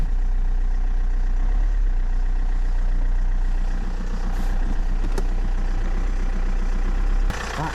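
Alfa Romeo Giulietta engine idling steadily after a clutch replacement, a continuous low rumble heard close up, with a brief click near the end and no talking.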